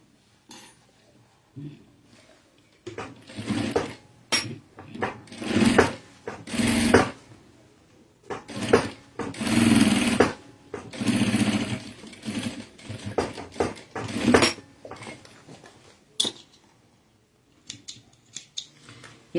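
A sewing machine runs in short bursts, stitching straight seams on a fabric organizer basket. The bursts are close and loud and separated by brief pauses, and there is no talking.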